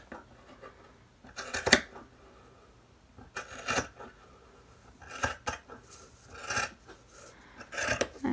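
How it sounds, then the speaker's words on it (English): Scissors snip through fabric along a paper template for a kimono in short bursts of crisp cutting, close and moderately loud, with quiet pauses between cuts. "So then I'm just going to take my scissors."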